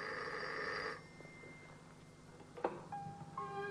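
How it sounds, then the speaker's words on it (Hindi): A telephone rings in a quiet home in a Pakistani TV drama, a bright electronic ring for about a second followed by soft room noise, a clunk, and further short tones as the call is answered. "अली जान फोन सुनो"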